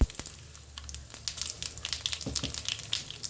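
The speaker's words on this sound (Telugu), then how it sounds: "ప్యాన్ పెట్టుకున్నాను, నూనె వేడి అయింది. జీలకర్ర వేస్తున్నాను 1 స్పూన్" Cumin and mustard seeds crackle and sizzle in hot oil in a pan: a dense, close, continuous frying hiss scattered with sharp pops and spits, with no voices.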